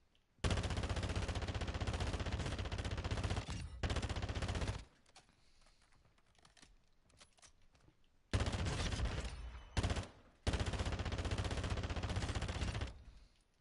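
Video game shooter gunfire with aim assist, heard as long sustained bursts of rapid automatic fire, loud and close, separated by a quieter gap and a brief pause, with no talk.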